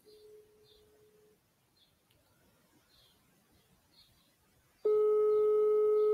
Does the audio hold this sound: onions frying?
no